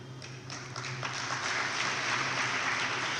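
Applause from an audience at a speech about the Indian parliament swells over a few seconds into dense, steady clapping, heard at a moderate distance with no talk over it.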